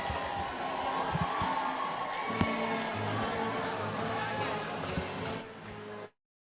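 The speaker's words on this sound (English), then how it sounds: "the crowd getting exciting now as their men's basketball team enters the gym" A gym crowd roars and cheers steadily as a men's basketball team enters before a Coaches vs Cancer game between Evansville Christian and Trinity, with a sharp bang partway through and the noise fading out at the end.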